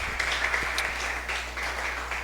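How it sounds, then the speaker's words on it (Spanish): A church congregation gives steady applause, moderately loud and even in tone, with scattered individual claps standing out over a low background hum. "¿Cuántos pueden darle un fuerte aplauso al Rey de Reyes, Señor de señores?"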